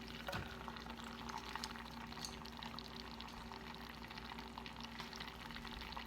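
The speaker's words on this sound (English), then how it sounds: "this is a half a stick of butter that I have melting here" Half a stick of butter melts in a pan for a bourbon glaze, giving a soft, steady sizzle and crackle with faint bubbling, quiet and close, with no talking.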